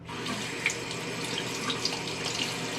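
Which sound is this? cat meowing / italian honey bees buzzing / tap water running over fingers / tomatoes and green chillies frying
tap water running over fingers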